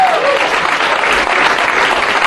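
Loud, dense applause from a comedy club audience at a live stand-up show at the Hard Rock Cafe in Detroit, sustained steadily without a break.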